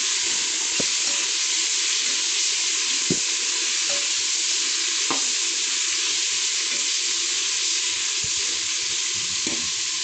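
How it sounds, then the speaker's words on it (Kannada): Mixed vegetables frying in oil for vegetable palav, a continuous dense sizzle with occasional stirring clinks, close and steady throughout. "ಎಣ್ಣೆಯಲ್ಲಿ ಸ್ವಲ್ಪ ತರಕಾರಿನ ಫ್ರೈ ಮಾಡ್ಕೋಬೇಕು"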